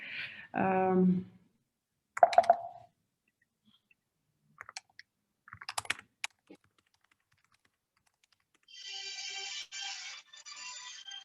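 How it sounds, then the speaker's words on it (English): A mobile phone ringtone plays near the end, a steady bright repeating tone after keyboard typing, clicks and a brief voice in an otherwise quiet room. "And I can hear someone's phone."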